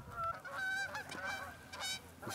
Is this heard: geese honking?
yes